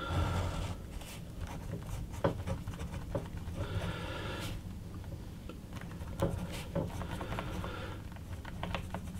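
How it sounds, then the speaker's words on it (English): A pen sketching on a notepad, soft close scratching strokes in short irregular bursts with brief pauses, quiet against a faint room background. "what I'm gonna do is just make me a little sketch"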